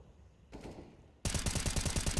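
A CS:GO gunshot wallbang on the Vertigo map: a faint shot, then a loud, rapid rifle burst fired through cover, with sharp evenly spaced cracks continuing to the end.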